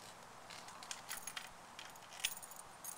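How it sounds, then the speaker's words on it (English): Car keys jangle in a hand, a series of light metallic clinks and rattles close up, irregular bursts over a few seconds with no talking. "Car keys."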